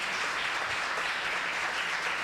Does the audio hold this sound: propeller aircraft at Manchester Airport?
no